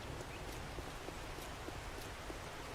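Steady rainfall in the survival video game 7 Days to Die, a faint continuous hiss with scattered soft drop taps throughout, no speech.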